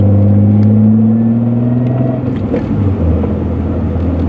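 A 1990s car's engine pulls hard and loud, a strong rising drone that drops as it shifts through the gears, then settles into a rougher, lower rumble under clattering road noise.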